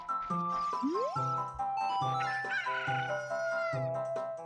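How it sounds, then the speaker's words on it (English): Crowing and clucking from a chicken in Ocarina of Time 3D, a rising cock-a-doodle call with tonal game music and chiming effects running steadily underneath. "Kojiro is his chicken."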